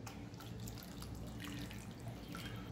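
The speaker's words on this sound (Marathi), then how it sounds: "मी याच्यामध्ये अजून अर्धा ग्लास पाणी टाकते" Half a glass of water poured into a simmering egg curry (anda rassa) on a kitchen stove, a steady close trickle and splash lasting throughout with no talking.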